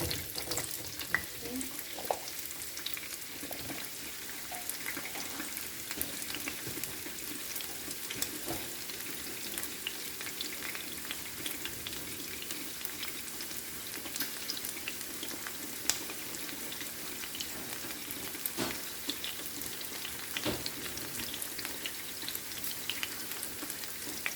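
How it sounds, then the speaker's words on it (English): Chopped onions fry in a pan for salmon and spinach, making a steady, even hiss with light crackle throughout, close and moderately quiet, with no speech over it. "And just some chopped up onions. Fry that a little bit."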